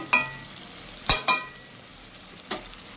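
Fish pieces stir-fried in spices in a pan give a low sizzle broken by three or four sharp scraping clacks of a spatula against the metal, close by and with no voices.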